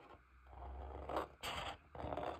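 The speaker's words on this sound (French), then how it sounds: "je vais découper les deux motifs" Scissors snipping through thick shrink plastic to cut out two motifs at close range, with bursts of scraping, crunching cuts separated by short pauses and no talking.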